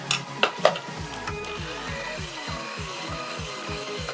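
Cake batter of eggs, flour and baking powder is beaten in a bowl, with a few sharp knocks at the start followed by a quick, regular rhythm of beating strokes, close and moderate in level.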